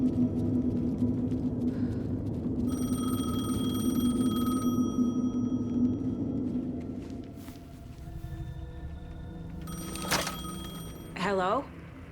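A payphone rings in the Alan Wake 2 video game, its electronic ringing tones repeating amid a low ambient rumble, with a sharper sweeping tone near the end.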